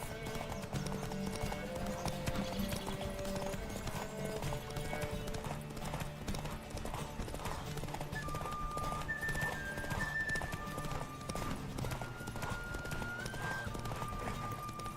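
Steady rhythmic hoofbeats of a galloping horse in Witcher 3, continuous throughout, with a faint whinny and background game music.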